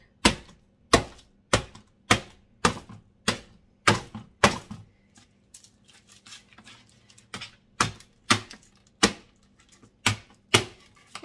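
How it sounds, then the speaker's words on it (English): Chocolate peppermint bark cracked apart with a wooden spoon, a series of sharp, hard knocks in an irregular rhythm, loud and close, with a quieter stretch of small crunches between the two bursts. "let's go with a wooden spoon here. We're just going to kind of just break it."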